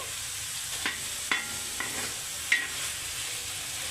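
Onions and green chillies fry lightly in a pan for a gongura chicken gravy, with a soft continuous sizzle and several sharp spoon clicks as the mixture is stirred nearby. No one speaks.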